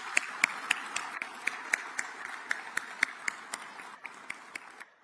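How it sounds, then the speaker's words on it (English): Scattered applause at a military change-of-command ceremony, sharp individual claps ringing out in a loose, sparse rhythm at moderate distance before tapering off. "So a round of applause for both Rich and his wife, Samantha."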